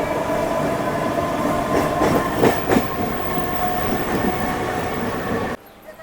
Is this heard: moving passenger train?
yes